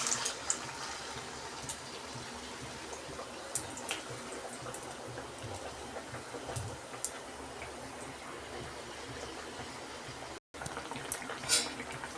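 Battered sweet pumpkin slices frying in hot oil, a steady bubbling crackle running throughout with occasional sharper pops, close and continuous.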